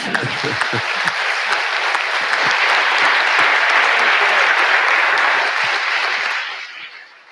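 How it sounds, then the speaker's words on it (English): Sustained audience applause at an evening lecture event in Heidelberg, a dense, full wash of many hands clapping that holds steady and then fades out at the end. "I give you my applause"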